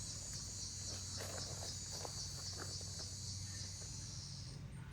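Crickets chirp outdoors in a steady, high shimmering drone that runs unbroken over a low hum, with faint scattered clicks and rustles in the background.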